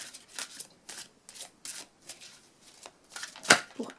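Cards from a French angel love oracle deck are shuffled in a series of close, papery bursts. A sharp snap near the end marks a card being drawn, with no voice over the sound.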